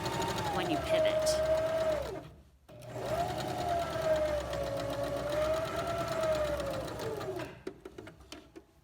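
A sewing machine stitching a seam on a small tote bag, its rapid motor whir running in two steady bursts with a brief pause between, while a voice talks over it.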